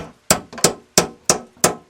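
Five sharp hammer blows on a wooden frame while building an earth house at a mud-house building school, struck close and loud in an even rhythm about a third of a second apart, with no talk.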